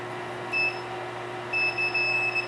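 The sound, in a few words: circuit tester beeping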